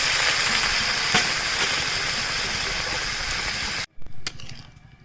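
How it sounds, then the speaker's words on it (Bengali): Water is poured into a pan where taro and potatoes have been fried down with spices, giving a loud, steady sizzling hiss that stops abruptly near the end, followed by a few brief bubbling sounds. "এইবার জল দিয়ে দেবো, দিচ্ছি জল।"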